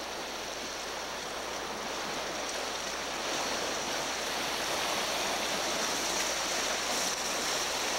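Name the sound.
tidal rip waves breaking, 4 to 6 feet high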